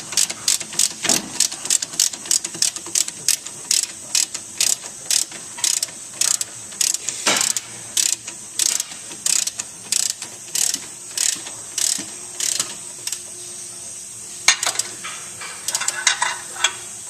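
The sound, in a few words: ratchet loosening strut nut on 1998 Hyundai Accent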